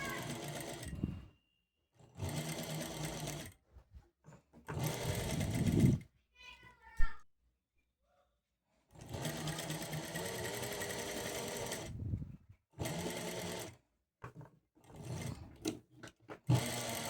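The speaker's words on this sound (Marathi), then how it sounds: "व्यवस्थित शिलाई करून घ्यायची आहे" A sewing machine stitches a blouse in several short and longer runs of fast, steady whirring, separated by pauses.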